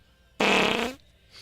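A single loud, buzzy fart sound effect, lasting about half a second, starts abruptly and cuts off cleanly against near silence.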